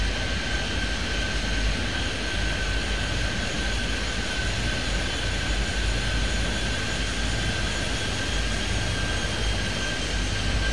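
Jet aircraft taking off from Kingston's runway 30 in Airport Madness 3D, a continuous loud engine roar with a steady high whine held throughout.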